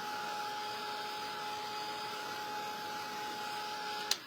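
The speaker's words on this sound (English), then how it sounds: "I wanted to go ahead and hit those with the dryer so they can speed up." A hair dryer blows on a stenciled snowman sign to dry sponged brown espresso and black paint, giving a steady whirring hum with a fixed whine that runs unbroken, moderately quiet, and ends in a sharp click.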